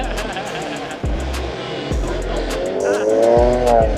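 A Maserati drives off at a street car meet, its engine revving hard through several gear changes with tire squeal, loud and close, while people talk and shout over it.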